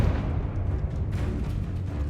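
A Confringo fire-explosion spell in Hogwarts Legacy, heard as a loud, booming blast with a dense rumbling low end that fills the short moment.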